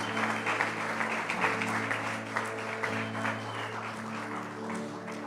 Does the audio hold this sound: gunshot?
no